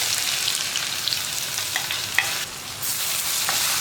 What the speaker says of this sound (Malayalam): ഇപ്പോൾ നമ്മുടെ കടുക് പൊട്ടിക്കൊണ്ടിരിക്കുന്നുണ്ട്.